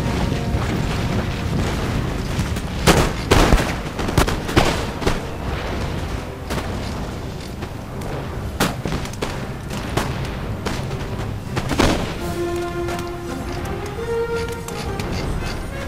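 Musket volleys and artillery booms from a Napoleonic-era battle in the PC strategy game Empire: Total War, with sharp loud bangs scattered irregularly over a constant battlefield din, plus a brief drawn-out tonal rise near the end.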